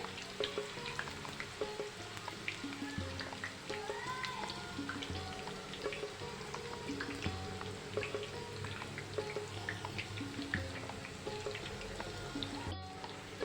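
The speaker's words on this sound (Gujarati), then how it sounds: "આપણે આ લાંબી વેફરને પણ તળી લઈશું" Thin, long raw-banana wafers fry in hot oil over a high flame, a continuous crackling sizzle with bubbling pops and occasional stirring, close and fairly quiet throughout.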